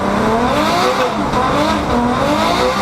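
A Subaru BRZ sports car is driven hard, its engine note loud and steady with rising and falling tones and a hint of tire squeal, sounding close and continuous throughout.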